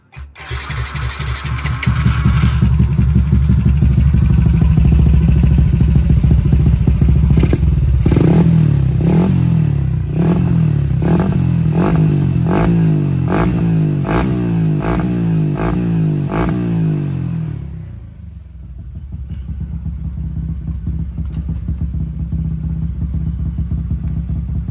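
A Honda-style Lagenda 110 motorcycle with a 63 mm bore build starts and revs hard, loud and close, a buzzing single-cylinder roar that rises and falls through throttle blips before settling to a lower idle.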